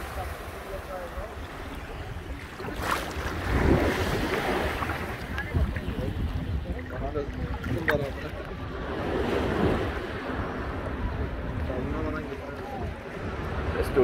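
Small sea waves wash and lap steadily near Alanya, Turkey, while a light wind buffets the microphone, with someone talking over the water sounds throughout.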